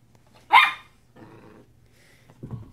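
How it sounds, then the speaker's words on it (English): A dog lets out a sharp bark, followed by a couple of lower, rougher growling barks, fairly close with quiet pauses between them. "Oh, here's Indy barking."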